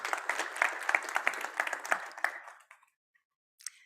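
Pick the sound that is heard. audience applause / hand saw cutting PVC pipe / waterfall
audience applause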